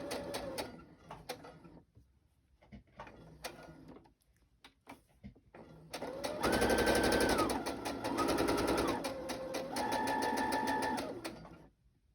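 A sewing machine stitches thin fabric for fabric flips, running in several sustained bursts with steady rapid needle chatter and pitch changes as speed varies, after a few quiet handling clicks at the start.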